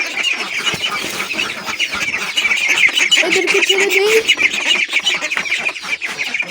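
Chickens clucking inside a chicken coop that ducks have disturbed, with busy overlapping calls and a honk-like cry, close by, while a person speaks briefly.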